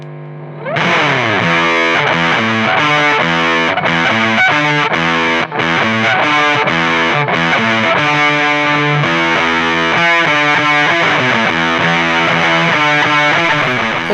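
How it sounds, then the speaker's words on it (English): Electric guitar played through a cheap Dolamo fuzz pedal, hammering out 60s-style riffs with a thick, buzzing, saturated tone that sustains continuously and loudly with no talking. "that sounds like a classic 60s fuzz pedal"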